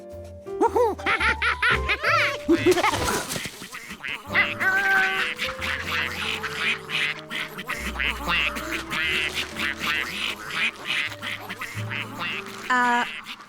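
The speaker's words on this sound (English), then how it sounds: "Ducks!" Cartoon ducks quack over and over in a lively, overlapping chorus, close and loud, with giggly laughter mixed in and background music in a children's animated show.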